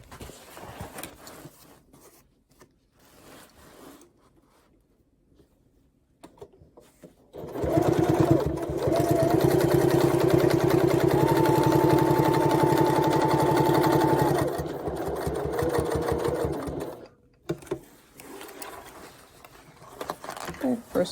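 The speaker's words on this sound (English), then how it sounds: "I'm just going to go from here to here, cut the thread here to here" A sewing machine stitches a welt pocket seam, running in one steady, loud burst of several seconds after quieter handling noises, then stopping and giving way to softer rustling.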